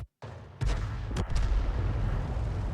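In a tank video game, a T28's 85mm gun fires, a sharp booming report followed by a rumbling tail, with another crack shortly after over a continuous low battlefield background.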